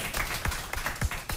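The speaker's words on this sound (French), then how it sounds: "On l'applaudit, s'il vous plaît." Game show audience applauding a contestant, a dense burst of close, steady clapping from many hands with no talk over it.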